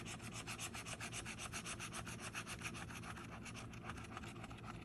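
A bottle opener rapidly rubs across the coating of a lottery scratch ticket, producing a quick, even, close-up scraping rhythm that continues without a pause.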